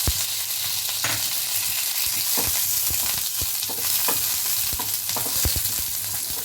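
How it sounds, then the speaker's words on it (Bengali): Black mustard seeds and curry leaves sizzling in hot oil for masala idli, a dense crackling fry with sharp pops and stirring clicks throughout, close and fairly loud. "একটু সামান্য সর্ষে, কালো সর্ষে, আর দিয়ে দেব কিছু কারি পাতা।"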